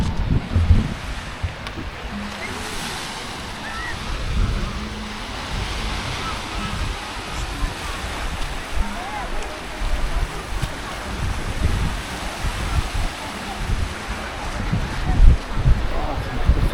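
Surf rolling onto a beach in Sousse, Tunisia, a steady wash of breaking waves mixed with gusty wind buffeting the microphone, with occasional low thumps throughout.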